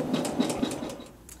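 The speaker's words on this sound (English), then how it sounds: "we're going to make sure we bring our bobbin thread to the top, and then we're going to stitch our quilting" A sewing machine runs quilting stitches across a Dresden plate block, a quiet rapid whirring chatter for a second or so before it eases off.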